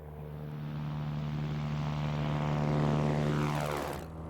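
A Cessna propeller airplane departs from runway 01 left, its engine droning steadily and loudly with a tonal hum that swells as it passes close and then falls away in a pitch-shifting sweep, with no talk.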